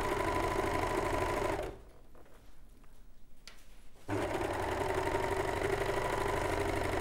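A domestic sewing machine set to a decorative stitch whirs steadily, drops to near silence for about two seconds, then resumes stitching at the same close, even hum.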